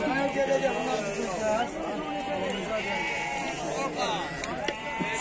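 Lambs bleat repeatedly at a busy livestock market in Beylaqan, their cries mixed into steady, close conversation and crowd chatter.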